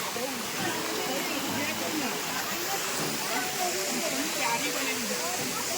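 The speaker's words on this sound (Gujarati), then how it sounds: "મિત્રો આ વોટરફોલનું નામ છે વિશ્વામિત્રી" The Vishwamitri waterfall at Pavagadh pours down in a constant broad rushing hiss, close and steady, with people talking over the roar.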